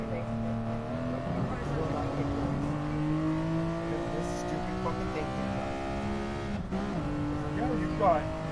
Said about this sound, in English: when 4 laps and 3 laps to go, we're going to rev it out